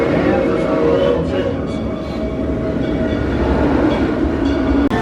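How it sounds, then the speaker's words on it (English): Six Flags Railroad amusement park train rumbling steadily along its track, a continuous low mechanical roar with faint rattling, with voices talking over it throughout. "it's awesome to be able to ride the Six Flags Railroad again"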